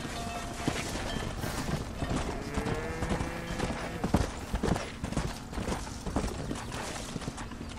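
Horse hooves clip-clop steadily on the ground in the video game Red Dead Redemption, a quiet, rhythmic trot with occasional snorts amid soft background game noise.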